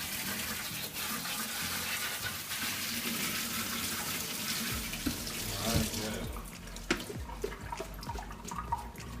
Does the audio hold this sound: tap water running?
yes